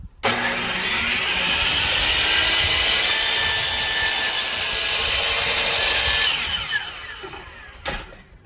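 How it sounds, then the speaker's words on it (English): A DeWalt miter saw cuts through a piece of wood in one loud, sustained whine lasting about six seconds, then spins down, followed by a brief clack. "this is the easiest job that this DeWalt miter saw ever had"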